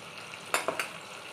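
Chilli paste, Kashmiri chilli powder, a whole green chilli and turmeric sauté in a pan, a faint steady sizzle broken by two or three brief, sharp stirring scrapes.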